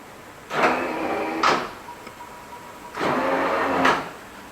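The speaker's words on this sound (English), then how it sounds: "Then the headlights go up and down just like they're supposed to." Motorized pop-up headlights on a Pontiac Firebird Trans Am, running after an isolation relay repair, whir up and down twice, each pass a steady close mechanical drone about a second long, ending in a slight clunk.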